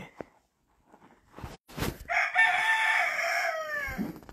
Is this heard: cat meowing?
no